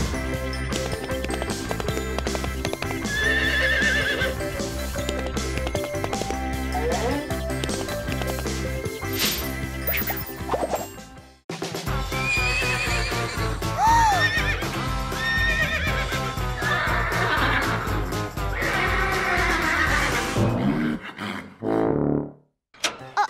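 Horses neigh and hooves clip-clop over a constant bed of music in a children's toy-house cartoon, the whinnies rising and falling loudly through most of the stretch, with a brief break midway.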